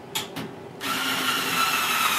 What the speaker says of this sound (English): So we put the extension on the screwdriver and the bit in there